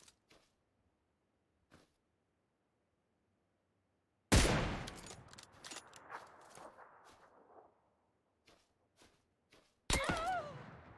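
Gunfire in PUBG PC Lite: a few faint distant shots, then a sudden loud close blast with a rattling burst that decays over a few seconds, more scattered faint shots, and another sharp loud burst near the end.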